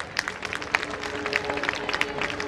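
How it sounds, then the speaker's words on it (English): An audience at a school award ceremony claps in a light, scattered ripple of individual hand claps, fairly soft and somewhat distant. "A huge round of applause, everyone."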